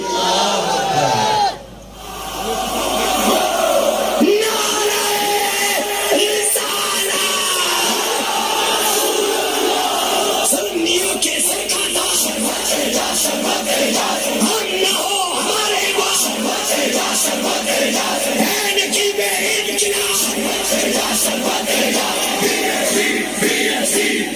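A large outdoor crowd at a Sunni Tehreek conference in Orangi, Karachi roars back in unison after a Takbir slogan, a sustained swell of massed shouting and cheering.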